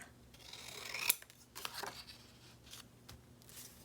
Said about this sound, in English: And I'm gonna trim this a little bit.